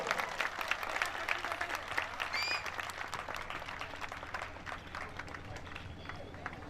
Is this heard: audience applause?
yes